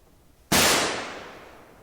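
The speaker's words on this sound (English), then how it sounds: "gunshot." A single gunshot in The Last of Us, a sharp, loud crack after half a second of near silence that then fades slowly into a long echoing tail, with nothing else heard.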